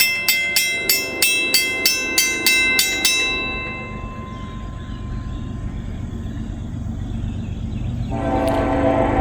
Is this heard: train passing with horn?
yes